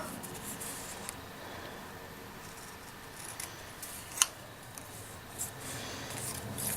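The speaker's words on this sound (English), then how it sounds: "I'm just going to trim that off." Scissors trim the paper edge of a handmade Christmas card, with quiet close snips and rustles and one sharper cut, heard alone in a quiet room.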